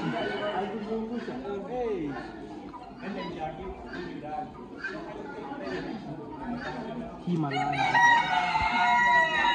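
Chickens crow and cluck at a poultry show on the Nairobi show grounds. The calls rise and fall amid constant crowd chatter and nearby talking, and a louder crow comes near the end.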